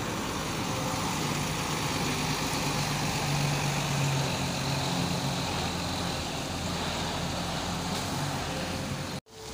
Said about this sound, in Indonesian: Ini harapan jaya lagi. Ini bus yang kelima ya guys,